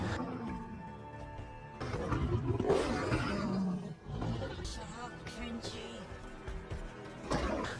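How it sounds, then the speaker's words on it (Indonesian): A saber-tooth tiger roars in the animated film Jurassic World Camp Cretaceous: a sustained, loud, rumbling roar that swells around the midpoint, set within a busy film soundtrack with other effects. "muncul saber-tooth tiger atau harimau bergigi pedang"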